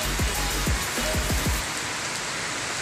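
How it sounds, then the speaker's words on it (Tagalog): Heavy rain pouring steadily outside a hotel by the pool, a dense, loud, continuous hiss with a few low thuds early on. "ang lakas-lakas ng ulan sa labas"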